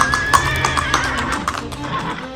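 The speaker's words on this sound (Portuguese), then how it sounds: "Espumando, o cavalo galopou feito um doido até a porta de entrada e ergueu-se sobre as patas traseiras" A foaming horse gallops madly to a front door and rears on its hind legs, neighing loudly over hoof clatter and taps, close and prominent with no talk.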